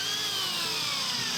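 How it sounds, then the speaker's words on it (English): A power drill whirs steadily, boring into donated trees being readied as lake fish habitat, a continuous mid-distance motor whine. "There's the drilling."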